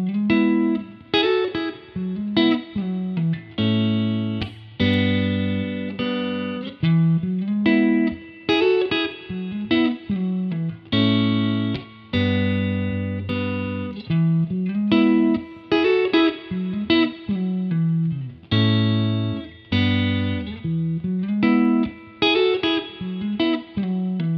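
Clean electric guitar played through the neck pickup into a Hot Rod Deluxe amp's clean channel, a steady run of chords and single notes with a lightly effected, ringing tone, no voices.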